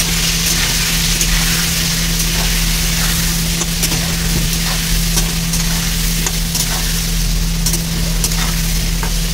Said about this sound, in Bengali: এবার আলুটাকে ভাজবো।